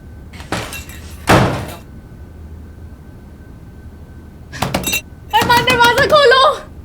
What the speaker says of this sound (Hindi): अरमान दरवाजा खोलो